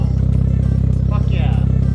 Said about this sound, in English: you can actually hear the exhaust now